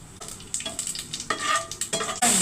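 Oil fries with cumin and mustard seeds in a pan, a close, lively sizzle broken by repeated stirring scrapes and spattering bursts, growing louder toward the end, with no voices.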